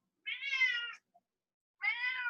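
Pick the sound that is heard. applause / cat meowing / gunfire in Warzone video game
cat meowing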